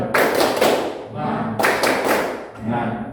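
A group performs the 'tepuk semangat' spirit clapping routine at an Indonesian teaching session, with two loud bursts of rhythmic hand clapping and thumping separated by brief pauses, mixed with shouted voices.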